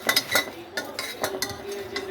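A spoon stirring popcorn in a metal pot, giving a run of scraping, clinking strokes at a steady rhythm, close and moderately loud, with no voices.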